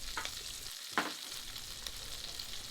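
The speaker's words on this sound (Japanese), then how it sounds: "このまま玉ねぎに火を入れていきます。" Onions cook quietly in a cocotte pot, a soft, faint sizzle running throughout with one brief clink or stir partway through.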